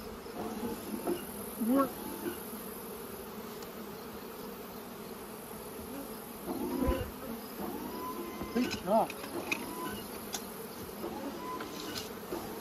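Honey bees hum steadily around stacked hive boxes during a mid-season split, with a few louder buzzes passing close. Brief speech breaks in over the buzzing.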